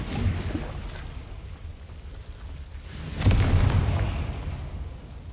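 A Confringo blasting spell goes off in a Harry Potter video game, a faint boom early on and then a louder burst near the midpoint, each trailing into a low rumbling wash.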